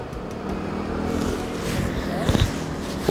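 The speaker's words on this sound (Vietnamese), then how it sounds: "Nhìn kia xe máy của họ đi đấy, bên đấy bên người Trung ấy chứ đúng không?" Traffic on a road along the Vietnam–China border fence, with a motorcycle engine droning steadily as it passes at moderate distance, mixed with a general road hum and a couple of brief bumps near the end.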